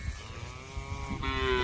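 A full-conditioned beef cow with a calf moos in a farm pasture, one long, loud harmonic call that rises in pitch toward its end, with no talk over it.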